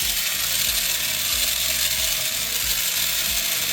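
The mechanism of a 1985 Transformers G1 Omega Supreme toy clicks loudly as its back flips. A dense, close ratcheting rattle of rapid ticks runs throughout over a harsh, constant noise, with no talking.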